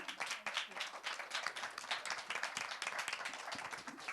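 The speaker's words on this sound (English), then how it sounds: "A round of applause for our panelists" At a women leaders' summit, the audience applauds the panelists with steady, crowded clapping that stays fairly quiet and somewhat distant, filling the whole few seconds.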